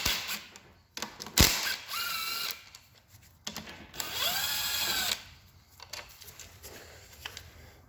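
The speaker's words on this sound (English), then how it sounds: "A trusty snap-on, cordless impact." A Snap-on cordless impact wrench buzzes and rattles in several short bursts of varying length, close and loud, with pauses and small clicks between them, no talking.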